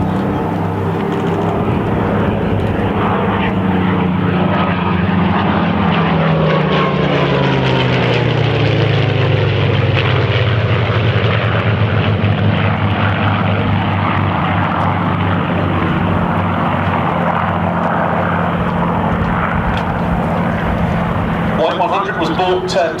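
Hispano Buchon Bf109 and two Yak-3 propeller warbirds make a loud, sustained piston-engine roar that rises and falls as they fly past at a Duxford air display, with the pitch sweeping down as each aircraft passes.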